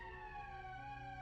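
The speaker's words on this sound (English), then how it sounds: "That's the emergency siren." Emergency siren from the video game Valkyria Chronicles, a steady sustained wail with layered tonal harmonics that holds level and loud through the whole brief moment, with no voices over it.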